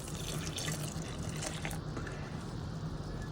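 Lukewarm water is poured into the pan of a Welbilt bread machine, a steady faint splashing trickle running throughout against a low hum.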